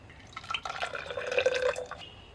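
Milky curd liquid poured slowly into a raw green bamboo tube, giving a short, close, gurgling trickle that rises briefly and fades, with no talking.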